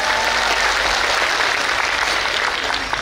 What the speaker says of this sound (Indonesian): Tepuk tangan untuk Pak Pratikno.